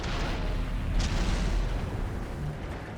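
A tank cannon booms in World of Tanks, and the heavy blast rolls on as a dense, continuous rumble with no pause.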